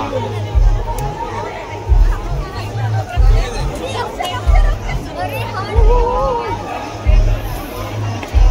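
Dense crowd chatter fills a busy food lane at the Kunkeshwar temple fair in Konkan, a loud, close babble of many voices with children among them and rhythmic thumping beats underneath.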